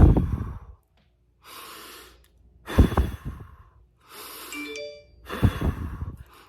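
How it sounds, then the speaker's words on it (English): Deliberate breaths drawn in through the nose and pushed forcefully out, four slow cycles with pauses between, close and fairly loud with no talking. "Another way you can do breathing is breathing in through your nose and pushing the air out."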